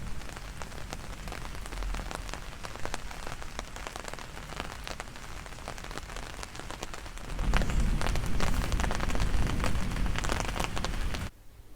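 Steady rain falls on surfaces, a dense continuous patter that swells louder about two thirds through and then cuts off abruptly near the end, with no voices.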